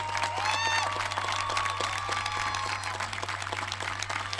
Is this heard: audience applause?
yes